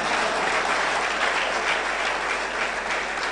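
Sustained audience applause at a book launch in Victoria Gardens, Blantyre, loud, dense and steady hand-clapping from a large crowd, continuing evenly throughout with no voices rising above it.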